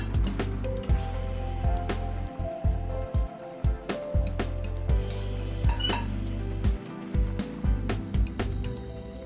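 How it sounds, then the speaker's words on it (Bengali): Paneer pieces drop into a simmering vegetable gravy, with repeated sharp knocks of a spoon against the pan over a steady bubbling, sizzling bed. Nobody speaks. "ঝোলটা একটু ফুটে ওঠার পরে পনিরগুলো দিয়ে দিচ্ছি"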